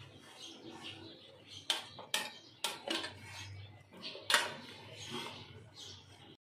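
Hot jackfruit pickle mixture is moved into a bowl, with a series of sharp metallic clinks and scrapes of a utensil against the dish, spaced irregularly over quiet background.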